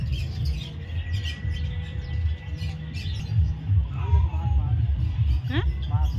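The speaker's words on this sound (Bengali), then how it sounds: "দেখো বন্ধুরা কি সুন্দর পাখিগুলো" Caged birds in a park give scattered squawks and chirps over a busy hum of visitor chatter, some calls sharp and close, others faint in the background.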